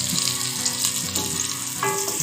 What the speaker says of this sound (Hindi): इसमें हम प्याज फ्राई कर लेंगे।